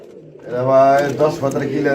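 Pigeons coo in short, rounded, throaty bursts, loud and near, at a busy pigeon market with voices in the background.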